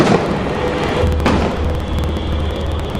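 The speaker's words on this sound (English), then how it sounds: "All the cork explosions and lightweight material that the special effects guy was blowing behind him." Special effects cork charges and lightweight debris blown behind an actor on a film set, heard as a dense, loud rumbling burst with one sharper crack partway through, steady noise throughout.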